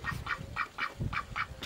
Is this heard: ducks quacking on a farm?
yes